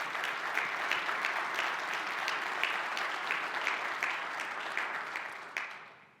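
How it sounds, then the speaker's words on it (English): An audience at a manufacturing presentation gives a steady, sustained round of applause for sponsors, dense clapping that holds for several seconds before tapering off at the end. "So let's give all those a great round of applause as the sponsors"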